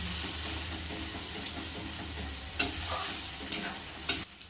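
Ground onion and ginger spice paste frying and being stirred in a pan, a steady sizzle with a few sharper scraping stir strokes near the end.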